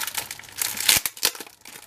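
Paper packaging for three blocks crinkles and tears close up as a craft-supply parcel is unwrapped, with irregular rustling bursts and a sharper crackle near the middle, no talking.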